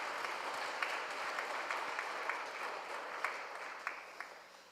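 A church congregation applauds during a Sunday morning worship service: a sustained wash of many hands clapping at moderate distance, with a few sharper claps standing out from the steady roar.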